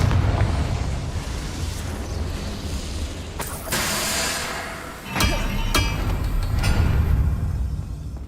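The Confringo explosion spell in the video game Hogwarts Legacy: two loud, sharp blasts cut through a constant rumbling game background, with a crackling tail after each burst.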